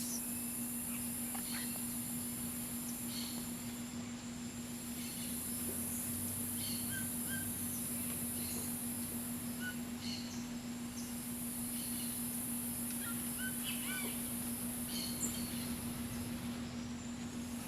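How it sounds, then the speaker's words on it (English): Cicadas in a jungle make a faint, pulsing high-pitched buzz that rises and fades in long swells over a steady hum, with scattered distant bird chirps. "You might sense the sounds of cicadas"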